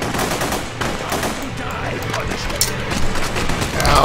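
Sustained turret machine gun fire from The Punisher video game, dense rapid bursts running continuously at steady loudness, with voices talking over the gunfire.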